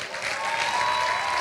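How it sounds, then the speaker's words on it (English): A crowd claps in a brief continuous burst, dense and fairly close, with no speech over it. "clap if you want clap"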